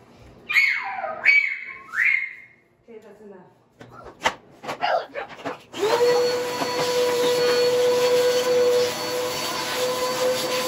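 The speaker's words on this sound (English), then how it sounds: "I'll probably have to vacuum again because I got more little bits of drywall dust all over the floor" A household vacuum cleaner sucks up small bits of drywall dust from a concrete living-room floor, starting partway through with a steady, loud whine that runs to the end after a stretch of talking and clattering.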